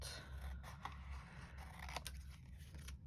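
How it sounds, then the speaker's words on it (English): Quick scissor snips slicing paper up close, several short cuts in a loose rhythm over a faint low background hum. "And do a rough cut."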